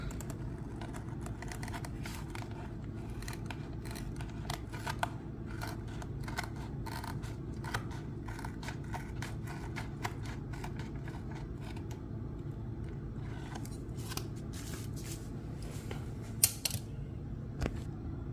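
Scissors snip through a sheet of mosaic wall tile in a straight line in a kitchen, a series of faint, quick clicking cuts over a low steady background hum, irregularly spaced and quiet throughout.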